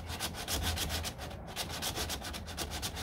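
Quick back-and-forth hand sanding strokes rasp over body glaze on a 1969 Corvette C3 door in an even rhythm, close and clear, with no voices.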